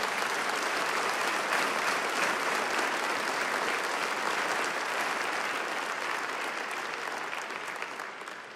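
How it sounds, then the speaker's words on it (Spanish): A church congregation gives loud, sustained applause during a sermon, a dense wash of clapping from many hands that fades slightly toward the end. "denle un aplauso fuerte al Señor."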